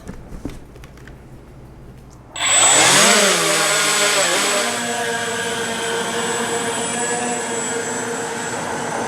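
Scout X4 quadcopter drone spinning up and lifting off after about two seconds of quiet, then a steady, loud, high-pitched rotor whine with shifting pitch as it flies nearby.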